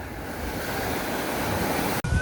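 Steady ocean surf washes against a beach, a continuous close rush of breaking waves with some wind noise on the microphone, ending in a sudden brief cut.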